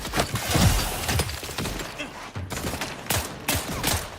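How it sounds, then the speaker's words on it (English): Rapid bursts of enemy gunfire in The Outer Worlds 2, a dense run of sharp close shots and impacts spread through a firefight, with no talk. "he's shooting us"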